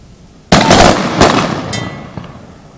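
A flag squad fires a ceremonial rifle volley on command at a September 11 memorial ceremony at a Champlain port. The shots crack out loud in one near-simultaneous burst, then echo and decay, followed by a faint later pop.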